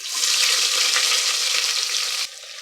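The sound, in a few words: onions and spices frying in ghee and oil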